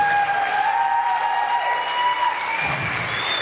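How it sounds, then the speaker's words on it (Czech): Steady applause from a travesti show audience, a dense wash of clapping hands that holds at an even level throughout, with a few faint cheers mixed in. "Obrovský potlesk pro něj."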